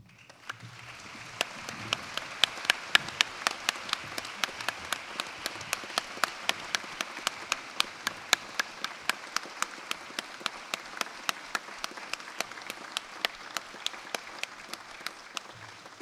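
Applause at a university graduation ceremony, a steady wash of crowd clapping with sharp individual claps standing out near the microphone, continuing evenly for the whole stretch.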